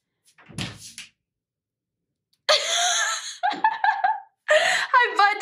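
A bathroom door at home opens with a short clunk and rattle, and a new puppy waits on the other side. A person then speaks in a high, excited voice over long, loud stretches.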